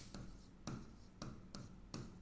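A pen writing out a maths expression: five quick, scratchy bursts of strokes at a steady rhythm, close and fairly quiet, with no talking.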